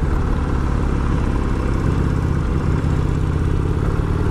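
A Harley-Davidson Sportster 1200 Custom's engine runs steadily at close range, a loud, even low throb with a rhythmic mechanical pulse and no voices.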